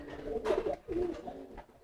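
A pigeon coos close by in a few soft, throaty bursts, with brief pauses between them and no talking.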